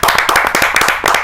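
An audience at a Hindi poetry gathering claps loudly and rapidly in a dense, close burst of applause.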